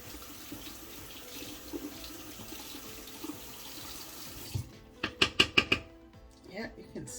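Tap water runs into a sink while bleach is rinsed out of hair, a soft steady stream that ends in several sharp splashy bursts and clatters near the close.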